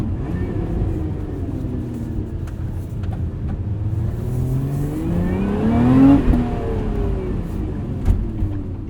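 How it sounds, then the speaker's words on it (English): A 2024 Lotus Emira sports car with a six-speed manual gearbox drones steadily from inside the cabin, its engine note climbing under acceleration to a peak before easing back, with a continuous rumble throughout. "this is how a sports car should sound and should feel"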